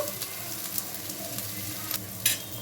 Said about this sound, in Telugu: అల్లం వెల్లుల్లి పేస్ట్ పచ్చివాసన పోయే వరకు ఫ్రై చేసుకోవాలి ఆయిల్లో